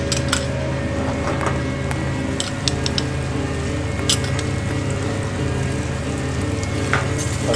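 Pancetta of Cinta Senese pork frying in butter for carbonara, a steady close sizzle throughout with light clinks of utensils and pan and no talk.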